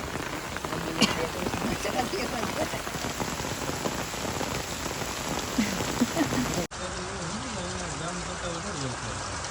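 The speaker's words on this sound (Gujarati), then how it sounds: "વરસાદ આવી ગયો હતો તો શૂટ બંધ થઈ ગયું છે" Steady rain patters on a surface throughout in Naroda, with a brief drop in the sound near the end before the downpour continues.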